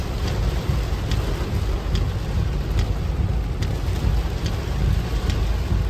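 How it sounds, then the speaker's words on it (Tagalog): Heavy storm rain pours steadily in a dense, unbroken roar while caught out on a road, with faint thunder rumbling low underneath; no voices, just continuous close downpour for the whole stretch. "Ito, nabutan ng bagyo."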